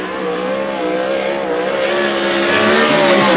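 A 410 sprint car with a DRC chassis and Speedway Chevy engine, run by KT Motorsports, roars around an oval during a qualifying lap at the USAC Oval Nationals. The engine howls loud and steady and swells slightly as the car passes.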